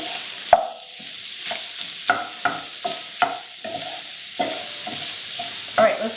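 Herby sausage sizzles in a pan while being stirred, with a bright crackle under repeated clacking knocks and scrapes of the stirring utensil, all nearby.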